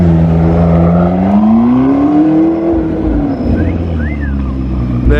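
A McLaren sports car rolls off a trailer, its engine note rising and falling in a loud, close, smooth drone with a gently climbing pitch, alone without voices.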